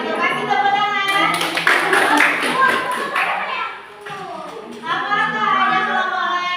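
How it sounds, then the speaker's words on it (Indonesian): Classroom clapping during a teacher-training session, a burst of hands clapping mixed with children's and adults' voices talking over it throughout. "Kasih tepuk tangan."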